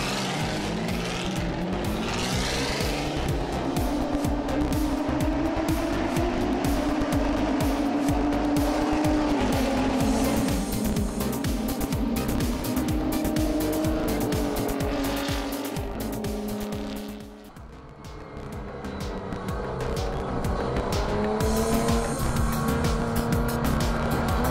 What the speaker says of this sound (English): This car's driven by a 3-litre V6 Jaguar engine